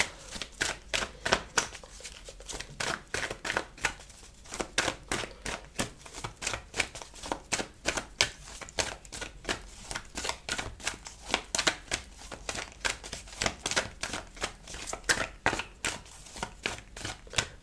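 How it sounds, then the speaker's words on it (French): Tarot cards being shuffled over and over, rapid riffling bursts with soft slaps in a steady repeating rhythm, close and fairly quiet, with no voice. "donc je bats beaucoup les cartes en ce moment"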